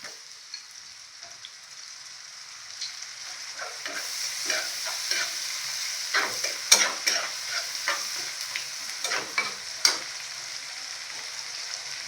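Onion and tomatoes fry in a pan for a dry sukat chutney, a steady sizzle with a spoon scraping and stirring in irregular strokes, close and moderately loud.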